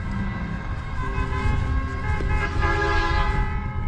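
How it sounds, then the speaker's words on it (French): A loud train-style air horn fitted to a car sounds in sustained blasts at a Twingo meet at Montlhéry, its strong tonal harmonics ringing over crowd and engine noise for the whole stretch. "Il y en a un qui a un klaxon de train."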